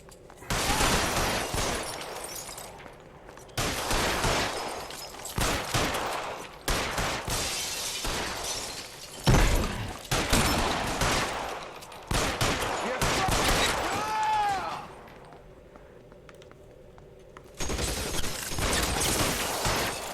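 Heavy gunfire in a shootout from L.A. Noire, rapid bursts and volleys coming in loud clustered waves with brief lulls between them, plus a few sharp shattering hits.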